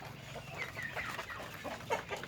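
Farm chickens, including black-tailed breeding birds, cluck softly in a low, continuous murmur with a few sharper calls against steady outdoor noise.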